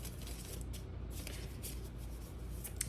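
A tarot deck being shuffled by hand, a continuous close riffle and flutter of cards with soft slaps, heard alone without speech.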